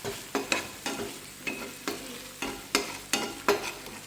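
Cluster beans frying in oil and masala in a pan, with a steady sizzle broken by rhythmic scraping stirs about every half second, close and alone.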